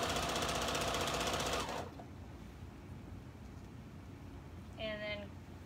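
Domestic sewing machine stitching at a steady, fast, loud mechanical hum for under two seconds, then stopping abruptly; a brief quieter whir follows near the end.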